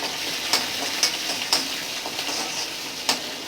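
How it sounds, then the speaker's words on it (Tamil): Shallots sizzle in hot oil, a steady crackling hiss up close, punctuated by several sharp metallic taps of a spoon against the pan at irregular intervals. "சின்ன வெங்காயம் சேர்த்துருக்கேன்"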